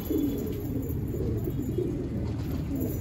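Pigeons, including a newly arrived khaira bird, coo in low repeated throaty pulses, close and steady over a continuous hum of background noise.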